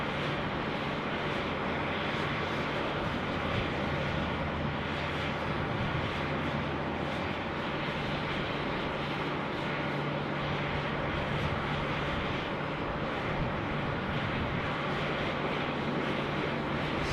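At Sydney Airport the Qantas 1 airliner moves in the distance as a faint, steady low rumble of jet engines under constant background noise, with no clear peaks.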